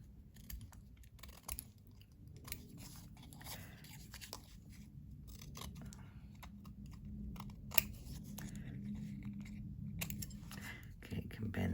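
Scissors snipping off excess paper during a wire-framed dangle craft, a series of quiet crisp cuts at irregular intervals, close but faint over a low background hum.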